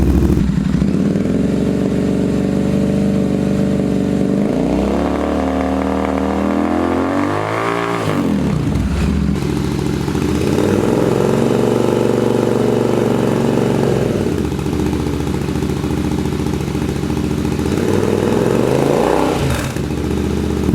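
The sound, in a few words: Royal Enfield Interceptor 650 idling with SC-Project Conic muffler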